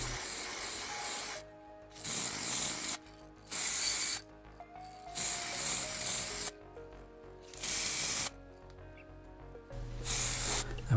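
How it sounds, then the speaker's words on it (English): Bursts of hissing gold spray paint from an aerosol can onto a diecast toy car, about six sprays of one to two seconds each, separated by short pauses, close and fairly loud. "Now I'm going to paint the car gold using a can of paint"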